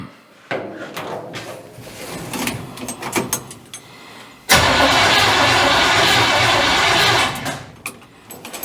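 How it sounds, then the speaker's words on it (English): A GMC truck engine cranks over several times on bottled gas, then catches and runs loudly and steadily for a few seconds before it dies down. The sound is close and there is no talk over it. "Now, I already had it cranking over."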